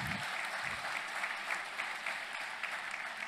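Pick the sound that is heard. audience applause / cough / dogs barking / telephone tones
audience applause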